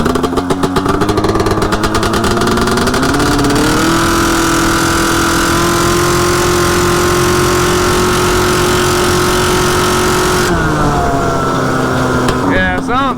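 A 140hp drag Banshee ATV two-stroke engine revs hard and loud at close range, climbing in pitch, holding a high buzzing drone, then dropping and blipping again near the end, with voices faintly under the engine.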